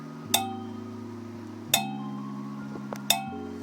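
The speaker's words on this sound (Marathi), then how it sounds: "या विरुद्ध आपले हे जे पितळेचे ग्लास आहेत याचा नाद ऐका" Brass drinking glass struck three times at even intervals, each a sharp metallic clink whose ringing tone dies away quickly, close and clear over a steady low background hum.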